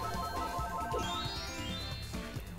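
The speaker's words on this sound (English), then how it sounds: "Got a phone ringing here." A phone rings inside Fortune Street on the Mario Circuit board, a steady electronic ringtone tone sitting on top of continuous upbeat game music.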